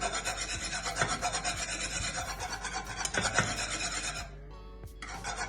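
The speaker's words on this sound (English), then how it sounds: "I'm just gonna use this, just whisk it out a little bit more." A whisk scrapes and rasps through thick Jamaican pumpkin porridge in a pot, a steady close rubbing texture with a few sharper knocks against the side, continuing alone throughout.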